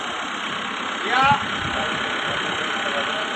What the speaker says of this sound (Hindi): ट्रैक्टर स्टार्ट है,